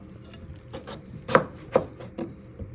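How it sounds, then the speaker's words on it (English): Knife chopping butternut squash into cubes on a board for rosemary soup: four or five crisp, close thuds at uneven intervals, two of them notably sharper, with no talking. "Keep it together and turn it around, and you want to chop it into little cubes"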